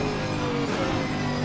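A Camaro GT4.R race car engine in Assetto Corsa Competizione drones steadily at high revs, a loud, continuous buzzing tone heard from inside the car.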